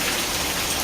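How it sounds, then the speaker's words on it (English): Hailstorm in Barcelona and Santa Coloma de Farners, Catalonia, with ice chunks pelting vehicles, roofs and streets; a dense, steady, loud hiss of impacts fills the whole moment without any voices. "Spectacular hailstorms hit the cities of Barcelona and Santa Coloma de Farners, Catalonia."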